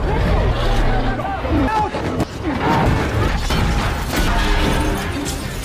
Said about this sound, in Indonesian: mesin pembawa satelit tiba-tiba mengalami malfungsi dan menghancurkan semua satelit yang sedang di bawahnya